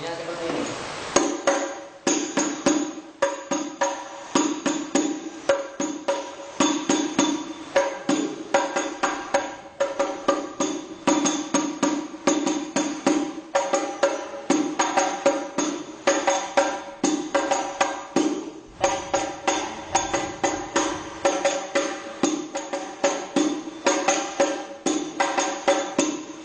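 Hadroh frame drums beaten in a steady, fast repeating pattern of sharp strikes with a few deeper thumps, loud and close, continuing without any talking.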